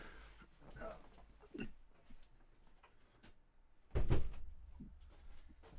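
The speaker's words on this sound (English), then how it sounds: "I got to close the door, otherwise my daughter will yell at me." An indoor door pushed shut in a home, with a few soft shuffles and clicks before a single firm thud as it closes, fairly close by.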